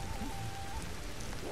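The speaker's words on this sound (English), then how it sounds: "Oh, it's raining!" Rain falls in the prehistoric survival game Ancestors, a steady dense hiss of drops on surfaces with faint low rumbles underneath, continuous and fairly quiet.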